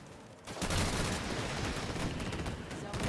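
Dense, continuous gunfire and explosive bursts from the shooter video game Disintegration fill the space after a brief quieter start, loud and sustained, with a voice occasionally underneath.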